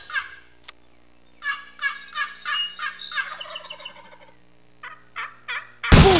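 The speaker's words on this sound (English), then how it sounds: "Turkey call bonus." Wild turkey gobbling calls in the Remington Great American Bird Hunt video game: several loud, rapid gobble bursts in close succession, a short pause, then a few more, ending in a sudden loud broadband blast.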